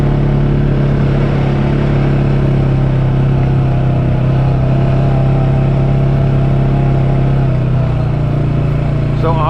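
A quad engine hums loud and steady as it drives along a rural route, a constant close drone with a slight pitch shift near the end, and someone talks over it.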